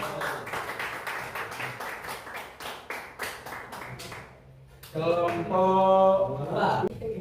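An audience at a teacher-training (PPG) class in Surabaya claps in a short burst of sparse, irregular hand claps, then the clapping stops and a voice begins speaking.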